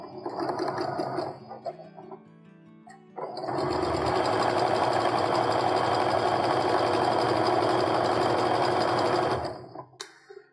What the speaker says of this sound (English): I'm just going to take the other piece and I'm going to sew it